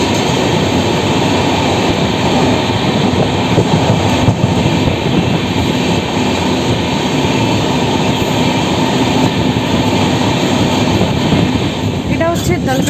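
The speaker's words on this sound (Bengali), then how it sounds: "আমাদের ট্রেন এখানে থামবে, প্ল্যাটফর্ম দিয়েছে এদিকে।" A passenger train pulls into a small, nearly empty rural station on a journey from Kolkata, producing a loud, steady, continuous rumble of wheels and carriages close by for the whole stretch.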